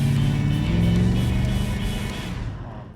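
1974 Corvette Stingray C3 with a 6.2 litre V8 roars as it accelerates, a loud, deep, continuous engine note heard close from inside the car, gradually easing off toward the end.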